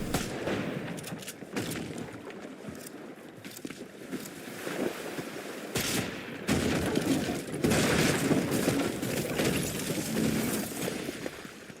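Fortnite gunfire in a competitive FNCS match: rapid bursts of shots crackle in clusters amid a busy, windy game soundscape, with a couple of sharper volleys standing out.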